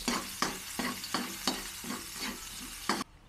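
Onion sizzles in hot frying oil for beef kaldereta, with a spoon stirring in regular scraping strokes about twice a second, close and clear, then suddenly cut off.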